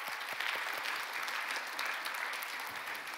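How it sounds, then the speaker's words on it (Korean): A church congregation at a youth winter worship camp claps together in praise, a steady, dense round of applause from a crowd indoors, fairly soft and continuous without voices. "우리 하나님께 영광 박수 올리겠습니다."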